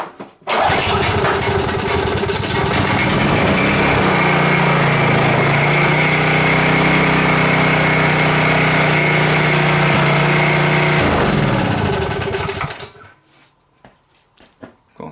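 Roadside-salvaged portable generator engine cranks and catches after choking, then runs loud and steady at a rumbling idle for about twelve seconds before abruptly shutting off.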